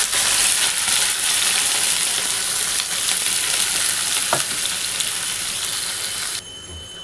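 Vegetables hit hot mustard oil with kalonji and green chilli and sizzle loudly. The steady hiss and crackle carries on for several seconds with occasional stirring clatter, then drops away sharply near the end.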